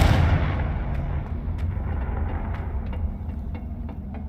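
A Confringo fire blast spell cast in the Hogwarts Legacy video game lands as a loud, booming burst that rolls off into a long, rumbling decay over several seconds.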